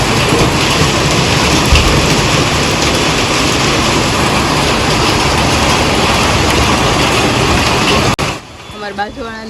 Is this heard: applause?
no